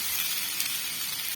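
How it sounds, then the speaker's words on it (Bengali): Thinly sliced potatoes fry in hot oil, a bright steady sizzle that holds for about a second before cutting off abruptly. "আলুটিকে ওর সঙ্গে দিয়ে ভালোভাবে ভেজে নেবো"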